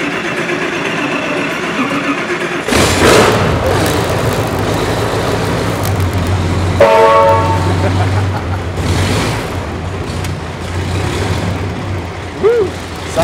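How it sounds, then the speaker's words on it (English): A 1915 Hispano-Suiza car with a big airplane engine turns over and catches, settling into a loud, deep, rough idle with a second surge midway, while people talk nearby. "With its monster airplane engine, Jay and I literally roared down the LA freeway."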